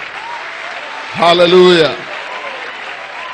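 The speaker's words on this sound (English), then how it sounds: "Make that clap louder. Let it sound thicker." A church congregation claps steadily in the background while a single voice calls out loudly over the applause for about a second.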